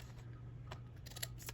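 A few faint, crisp snips of scissors, quiet and close, spaced unevenly over a second and a half.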